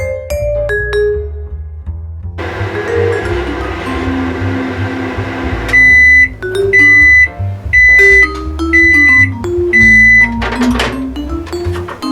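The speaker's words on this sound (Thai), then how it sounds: "แล้วก็ใส่เข้าไป ในไมโครเวฟได้เลยค่ะ ใช้เวลาแค่ประมาณ 2 นาทีนะคะ" A microwave oven heating water for soup, humming steadily as it runs, then sounding a series of about five loud, evenly spaced electronic beeps near the end, close by with no talking.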